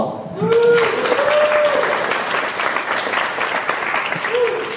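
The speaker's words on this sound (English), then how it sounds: "a round of applause" An audience claps steadily for a speaker introduced at an EOS developer event, a dense, even applause sustained throughout at moderate volume, with a brief voice near the start.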